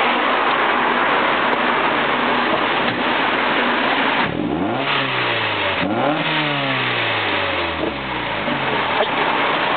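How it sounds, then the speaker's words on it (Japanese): Revving engine of a car fitted with an RS II exhaust muffler and an aftermarket air intake, close and loud: steady low rumble with two sharp throttle blips around the middle, each rising and falling, over a constant background hiss. "マフラーですね、まあ、ノーマルにほど近い感じでも見えるんですが、少しサウンドがよろしいですね。"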